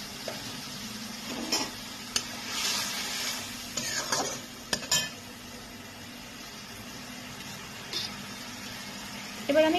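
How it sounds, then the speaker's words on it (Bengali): Spice paste soaked in water, sizzling in a pan of pointed gourd for a vegetarian curry, with intermittent stirring scrapes and a light clink or two over a steady low fry. "এবারে আমি মশলাটাকে এর মধ্যে দিয়ে দিচ্ছি।"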